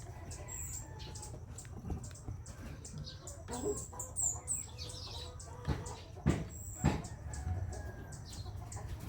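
Large roosters clucking and calling in a pen, with scattered sharp clucks and brief wing sounds over a steady low background hum, moderately close.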